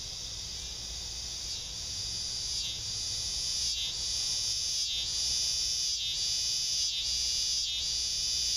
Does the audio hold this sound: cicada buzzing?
yes